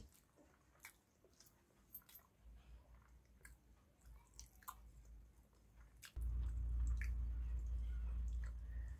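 Close, moist chewing while eating rice with fried fish and chilli, with soft smacking and squishy bites in short irregular clusters, joined by a louder low rumble in the last few seconds.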